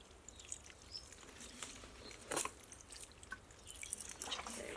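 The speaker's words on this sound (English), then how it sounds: "Now we're just going to give them a nice water." Water from a watering can patters and drips onto potting mix in small indoor potted plants. The light splashing is uneven and close, with a brief louder gush midway.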